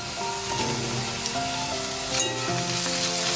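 Chopped onion fries with potatoes in oil, making a continuous, even crackling sizzle that stays close and loud throughout, with a soft tonal melody playing underneath.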